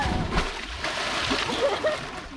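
A person jumps off a cliff and splashes into cold water, giving a broad watery splash and sloshing that continues steadily through the short clip.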